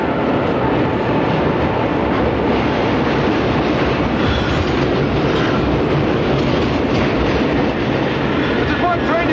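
Train running on rails, a steady loud rumble and clatter of wheels and carriages throughout, continuous and close with no pauses.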